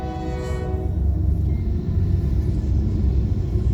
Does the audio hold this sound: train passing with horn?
yes